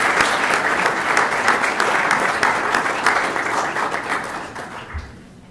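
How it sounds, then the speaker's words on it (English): A loud, sustained round of applause from a crowd at a school board meeting, dense steady clapping that fills the room before tapering off and fading out near the end. "Let's give all of our wonderful board members one big round of applause to show them our appreciation."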